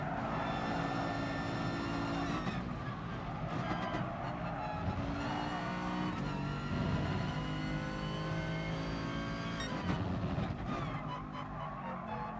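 Race car engines roar steadily in Gran Turismo Sport during FIA manufacturer testing, with rising and falling revs through gear changes, continuous and close throughout.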